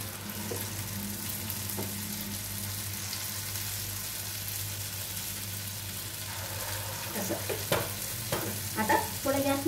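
Urad dal vadas fry in hot oil with a continuous close crackling sizzle, growing busier near the end with a few utensil clinks and bubbling bursts, no talking.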